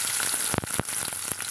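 Shallots and mustard seeds fry in hot oil for tomato kuzhambu, a steady close sizzle with a few sharp crackles and pops, no voices.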